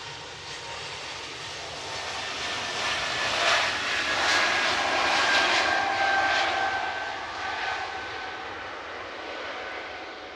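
An Air Baltic airliner takes off at Manchester Airport, its jet engines a broad roar heard from a distance that swells to a peak midway and then slowly fades.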